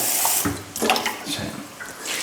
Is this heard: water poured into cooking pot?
yes